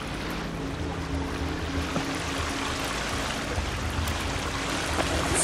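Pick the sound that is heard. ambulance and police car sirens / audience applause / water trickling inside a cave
water trickling inside a cave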